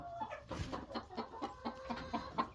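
A rooster clucks softly and repeatedly in a steady, choppy rhythm, close by and fairly quiet, with faint background noise.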